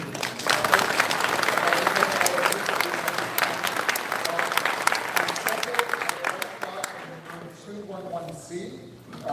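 Audience applause for panelists at a science fiction convention panel, a dense burst of many hands clapping that gradually thins and fades out.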